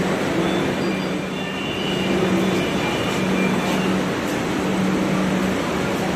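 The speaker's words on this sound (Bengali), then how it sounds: "দমদম মেট্রো স্টেশনে আছি আপাতত" Metro train noise at Dum Dum metro station in Kolkata, a steady loud rumble and hum filling the platform with no talk.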